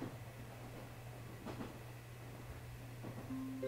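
Quiet train-ride ambience in the video game Yo-kai Watch 3: a low steady rumble with a hum and faint rhythmic clacks from the rails, with a soft chime or tone near the end and no voices.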